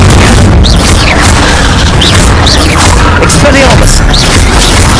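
Incendio fire-spell blasts boom repeatedly in Hogwarts Legacy on PS5, loud and dense amid a constant roar of combat effects, with a voice calling out over the action.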